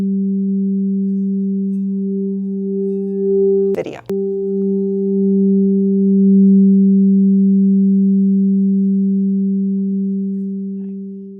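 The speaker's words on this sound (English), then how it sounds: "So those are harmonic beats." A sustained, resonant singing bowl tone with a slow, pulsing wah-wah beating from two bowls, briefly interrupted by a soft knock, then ringing on and slowly fading.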